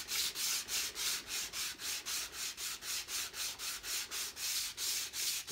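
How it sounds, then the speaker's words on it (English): Sandpaper rubs back and forth along a wooden swivel breech rifle stock in quick, even strokes, about three per second. The steady, close scratching rasp continues throughout with no talk. "if you've got a good sharp piece of sandpaper"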